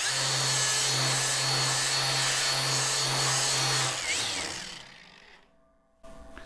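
A 3M Scotch-Brite Clean & Strip Pro disc on a power tool strips rust from mill-scaled steel, a loud steady abrasive whine with a low hum that winds down after about four seconds, followed by a faint clunk.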